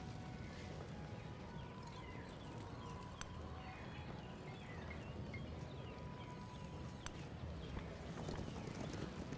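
Faint, steady clip-clopping of horse hooves in the Civilization strategy game, a soft repeating patter under low ambient wind-like noise.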